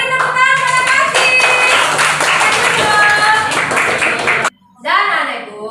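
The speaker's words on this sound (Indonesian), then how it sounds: "Kita beri tepuk tangan pada kasih." Children and adults in a classroom lesson on Surah Al-Falaq clap together in a loud, uneven burst with voices mixed in, then it stops abruptly and a voice follows.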